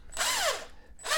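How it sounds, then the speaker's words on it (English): Power drill with a bit boring into drywall while mounting a Ford Mobile EV Charger: two close, loud whirring bursts, the first longer with a falling pitch, separated by a short pause. "having that drill bit kind of take out some of that drywall"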